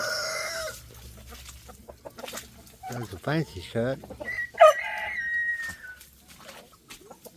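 A young rooster attempts a crow, a rough, broken call rising out of clucking from a mixed group of muddy chickens in a pen, with someone talking nearby.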